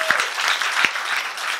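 A church congregation applauding, a dense, loud burst of clapping from many hands that fills the whole moment.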